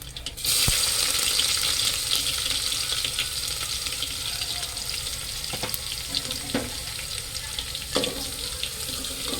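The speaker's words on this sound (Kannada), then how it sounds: "ಇವಾಗ ಬೆಳ್ಳುಳ್ಳಿ ಹಾಕ್ತಾಯಿದ್ದೀನಿ" Garlic dropping into hot oil for tomato sambar, a steady close sizzle of frying with a few sharp clinks and stirring knocks, no voices.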